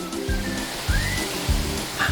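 Rain falling in Sattahip, Thailand after a long drought, a steady broadband hiss with soft, irregular low thumps from drops striking nearby surfaces.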